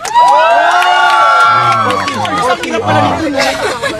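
Rap battle crowd erupts in loud cheering, whoops and shouting, a dense roar of many voices that stays strong throughout with a few louder individual yells rising above it.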